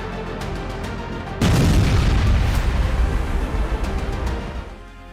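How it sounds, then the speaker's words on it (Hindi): Russian artillery shelling lands in a single heavy boom that erupts suddenly and rolls on as a loud, rumbling blast for several seconds before fading. "रूस तोपखाना यूक्रेनी सेना के 221 मोर्चों पर अंधाधुंध हमले कर रहा है"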